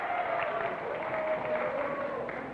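A 1964 television game show studio audience applauds in a sustained, even wash of clapping that stays steady and slightly muffled, with a faint voice underneath.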